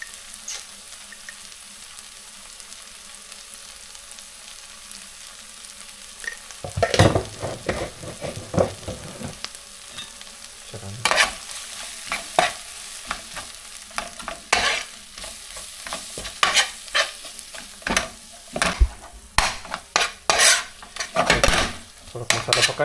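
A masala of red chilli, coriander-cumin powder, turmeric, garam masala and salt, cooked for a squid dish, is stirred and fried in a pan. After a quiet start, loud scraping strokes and sizzling come in repeated bursts, close up.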